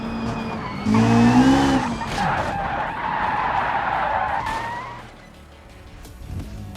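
A car in the BeamNG driving game skids off-road with a loud wavering tire squeal for several seconds amid engine and rumble, then fades to a quieter roll.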